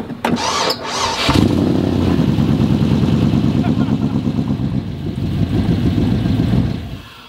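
A cammed 5.3 V8 in a lifted Tahoe cranks over, then catches and runs loud with a choppy, lopey idle for several seconds before fading, with voices and laughter heard around it.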